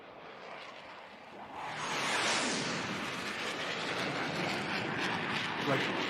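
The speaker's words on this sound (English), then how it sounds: "Like big, like ripping jet echo." Big ripping jet roar used as a sound effect in a music track, a broad rushing noise that swells after the first second and holds loud and steady to the end.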